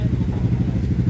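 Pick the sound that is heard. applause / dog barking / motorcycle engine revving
motorcycle engine revving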